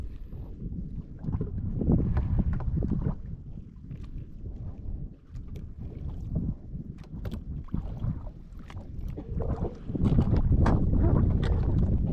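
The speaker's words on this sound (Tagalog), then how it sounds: "Yung mahangin na." Steady wind buffets the microphone in rough, low gusts, with water and boat noise mixed in during a fishing trip, growing stronger near the end.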